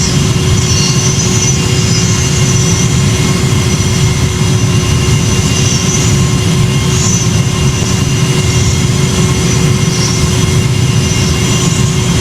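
Boeing 757 jet landing in the Project Flight video game, a loud continuous engine roar with a steady whine, unbroken throughout.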